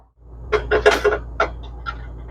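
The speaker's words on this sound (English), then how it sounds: "So I'm going to move my cutting board so I can get to my cooktop." A cutting board is shifted on a cooktop counter in an RV kitchen, making a cluster of hard knocks and clatters followed by a couple of lighter taps, close and alone.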